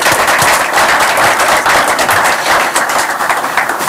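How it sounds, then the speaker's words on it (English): A large crowd at a football press conference announcing a new head coach gives a loud, dense round of applause, with steady, close-sounding clapping and no talk over it. "Give yourself a round of applause."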